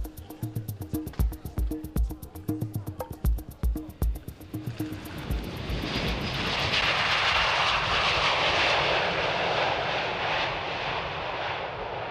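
A propeller aircraft engine chugs rhythmically at first, then swells into a loud, steady roar as it runs up to full power.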